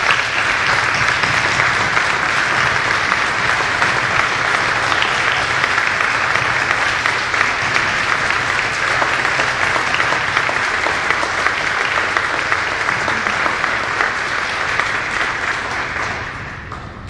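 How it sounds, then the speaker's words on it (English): Sustained, loud applause from a crowd at a Veterans Day ceremony honoring active duty service members and veterans, steady and dense throughout before tapering slightly at the end. "Let's give everyone a big round of applause."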